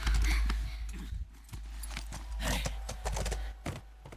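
Steady clip-clop of horse hooves at a trotting rhythm in the video game The Last of Us, moderately close, with faint low rumble underneath.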